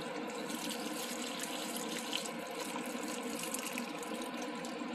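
Hot water poured onto fava beans in a cooking pot, a steady rushing liquid stream running continuously and fairly close, with no talk over it.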